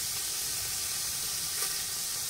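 Pork and smoked sausage sizzle in a frying pan while being seared for an entrevero de pinhão, a steady close hiss that carries on without pause and with no talk over it.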